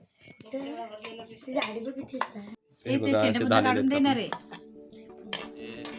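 A knife cuts through jackfruit with a few short chopping knocks, mostly at the start, while a person talks loudly and close over the cutting.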